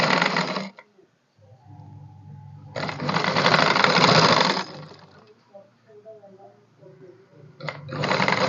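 A sewing machine runs a quarter-inch seam on a shirt shoulder in three bursts of steady, dense whirring, the middle one longest, with a low motor hum and soft handling sounds in between.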